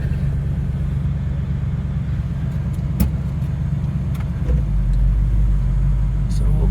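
A 1968 Camaro convertible rolls along a driveway with a low steady engine rumble, the drone swelling louder near the end, with a few faint clicks over it.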